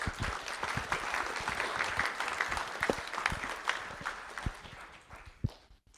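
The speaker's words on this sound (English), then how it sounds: "One more round of applause for Braden and Day One Bags." An audience at a school board of trustees meeting claps for several seconds, a close, dense patter of hands with a few sharp individual claps, fading out near the end.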